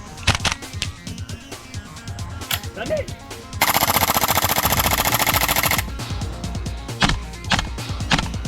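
A VFC FNC airsoft rifle firing, a sustained rapid full-auto burst of sharp clicking shots between scattered single shots and movement, with voices in the background.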